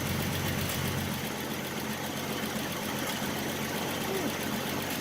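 Old inline-six engine of a 1967 Ford Mustang running steadily at idle, a low even rumble with a faint knock, heard fairly quietly and without interruption throughout.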